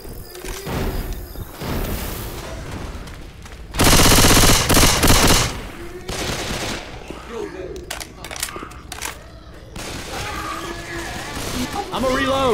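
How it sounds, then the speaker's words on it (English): Rapid automatic gunfire in Left 4 Dead 2 rattles in loud close bursts, with one dense volley mid-clip and scattered shots around it, mixed with excited players talking over the action. "What is up with you shooting me?"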